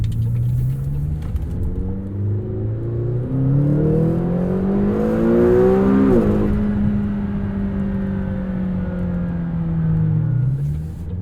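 A 2021 McLaren GT with a 7-speed dual-clutch gearbox pulls steadily, its engine note climbing and dropping through smooth gear changes, a loud continuous drone close up with no talking.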